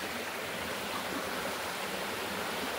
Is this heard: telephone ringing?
no